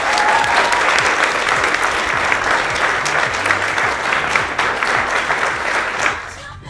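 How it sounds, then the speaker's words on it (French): An audience at a pretzel baking challenge gives the contestants a round of applause, with thick, sustained clapping and a few faint voices underneath, fading out abruptly near the end. "Bravo, on peut les applaudir."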